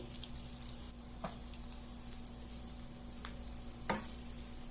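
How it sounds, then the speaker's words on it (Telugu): Egg and onion fry in a pan with a constant soft sizzle, broken by a few light scrapes and clicks as the food is turned over. "ఇలా ఫ్రై అలా కొంచెం అటు ఇటు తిప్పుకుంటూ 3 to 4 మినిట్స్ పెట్టుకోవాలి"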